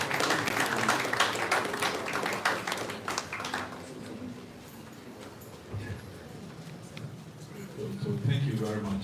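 An audience applauds the chairman at a regional health directorate half-year performance review meeting; a dense burst of clapping fills the first few seconds, then thins out beneath a speaking voice.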